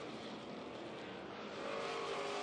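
Race cars roar around a dirt oval during a 50-lap Thunderstock race, a continuous distant wash of engine noise that grows slightly louder toward the end, with no voices.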